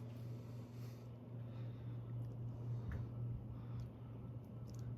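Encon Wyndham 52-inch ceiling fan on its medium setting, turning at about 110 RPM: a steady, continuous low motor hum with soft airy whoosh, constant in level throughout with a few faint ticks.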